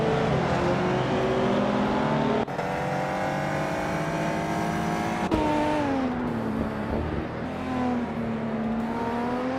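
A Caterham Super 7 SS race car engine drones steadily at high revs in a racing game, its pitch shifting with gear changes and throttle, loud and close with no talk.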